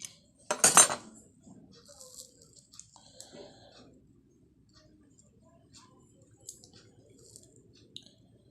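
A fried masoor dal pakora breaks with one loud, close crunch, followed by several seconds of faint crackles and light clicks in a quiet kitchen.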